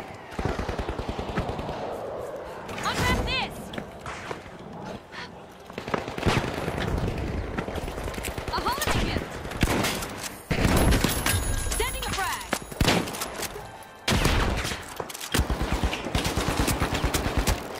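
Gunfire in the shooter game The Finals, played with a gun-shaped mouse, comes as repeated loud, rapid bursts across the whole stretch, with someone talking over and between the volleys.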